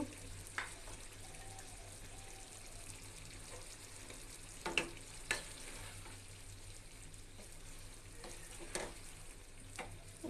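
Papaya and chickpea dal frying in a pan, stirred with a few sharp scraping knocks over a soft, steady sizzle, close but fairly quiet.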